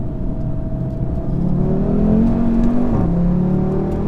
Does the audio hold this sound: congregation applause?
no